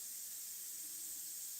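Paint spray gun misting paint at a studio easel, a steady soft hiss running the whole time, quiet and close with no talking.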